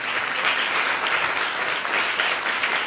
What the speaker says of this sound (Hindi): अरे ताली बजाओ भाई